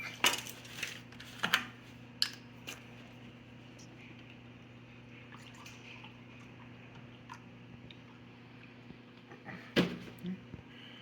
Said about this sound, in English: Then you need to mix it just until it's all mixed.